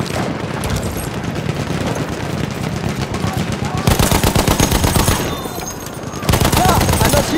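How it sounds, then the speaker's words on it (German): Loud, close machine gun fire in a first-person shooter video game, rapid continuous bursts filling the clip with a brief lull before heavier automatic volleys resume, dense and booming throughout. "Da, ein Maschinengewehr."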